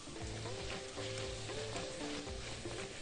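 Mushrooms sautéing in a pan for a creamy mushroom soup, giving a steady, close sizzle and crackle throughout with faint tonal background sound layered underneath.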